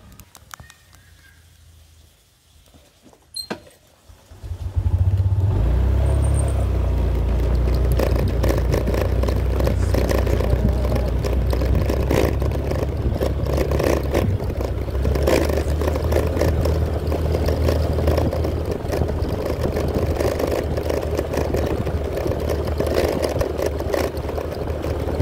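Honda Beat motor scooter with its engine droning steadily as it climbs an uphill road near Puncak, Bogor; it starts quiet, then the motor surges loud around five seconds and holds a strong, continuous labored hum.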